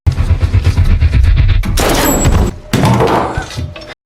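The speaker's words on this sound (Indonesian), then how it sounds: "Vic menembak Tom lagi" Loud bursts of gunfire in a film with sharp impacts and a dense crackling rush, stopping briefly before another volley, then cutting off.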